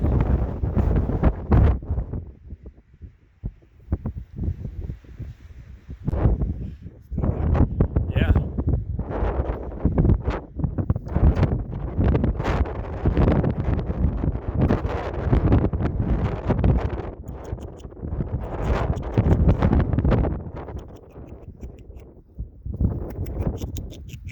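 Strong wind buffets the microphone on a mountain hike, loud gusting rumbles rising and falling throughout with brief lulls, and a voice speaking beneath the roar.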